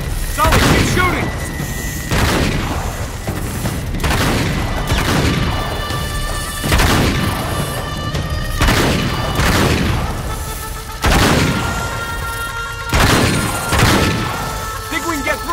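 Gunfire in the video game Uncharted 3, with repeated heavy booming shots and crashing impacts in bursts roughly every two seconds, loud and close throughout the whole stretch.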